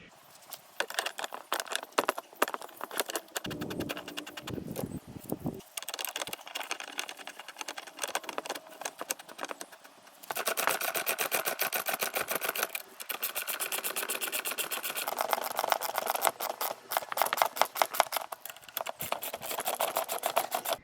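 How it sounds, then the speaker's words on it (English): A tool compresses the front strut spring of a BMW E87 1 Series with rapid rattling clicks and ratcheting bursts, pausing briefly midway, then running in longer, denser stretches, close up and moderately loud. "Let's get the spring compressed."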